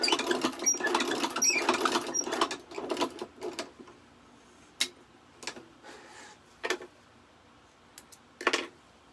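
A China leather shoe patcher sewing machine stitches in a rapid close clatter for a few seconds, followed by scattered single ticks and clicks as it slows and stops.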